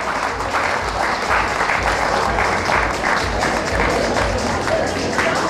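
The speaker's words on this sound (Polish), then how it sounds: "Brawa, gorące brawa." Loud applause from an audience at a dance show, a dense, continuous crackle of many hands clapping in a full, steady wash with no voices over it.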